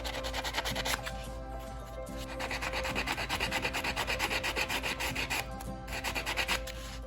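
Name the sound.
sanding napkin edges with nail buffing block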